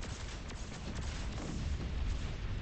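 Bombers firing weapons in the space game Discovery Freelancer during a respawn event: a dense, continuous barrage of booms and crackling blasts, steady and loud throughout with no clear gaps.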